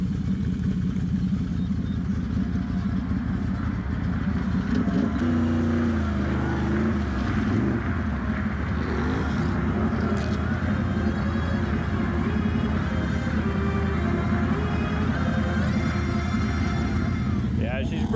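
A Can-Am Renegade XMR ATV runs through mud, its engine droning loud and continuous with shifting revs and a low growl throughout, while people talk over it.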